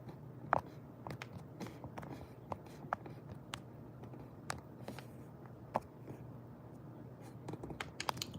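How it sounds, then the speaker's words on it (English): Typing on a computer keyboard during a livestream, scattered faint clicks and taps coming in irregular bursts over a quiet room hum, close to the microphone with no talking. "if y'all catch me typing, it's because I'm blocking"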